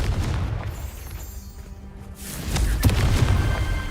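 Confringo fire spell exploding in Hogwarts Legacy, with a rumbling blast that fades and then a second, louder booming impact with crackling debris.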